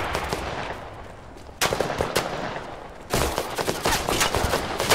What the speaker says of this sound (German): Die Schüsse kamen hinter der Rippe, nicht aus der Rippe.